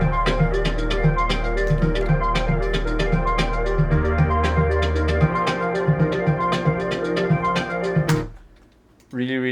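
A simple homemade drums-and-bass track: steady drum hits over a sustained, old-school style bass tone, played loud and continuous before it cuts off abruptly near the end.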